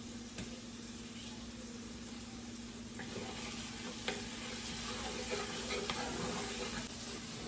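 Two garlic cloves frying in a pan for Oysters Rockefeller, a steady, moderate sizzle with light stirring and occasional ticks, close and continuous under a faint low hum.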